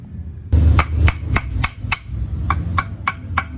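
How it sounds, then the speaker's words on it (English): A series of sharp metallic hammer blows on a part of a 13B rotary engine, about ten strikes at an uneven pace, ringing close and loud with no talk. "John, hit it with a hammer."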